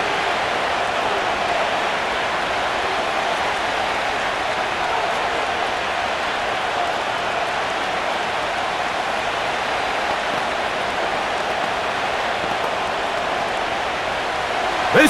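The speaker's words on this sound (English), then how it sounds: "This crowd into it now as we get to 3rd down." Steady stadium crowd roar during a Madden NFL 25 video game football match between the San Francisco 49ers and Miami Dolphins, a dense continuous hiss of cheering that holds throughout at an even level.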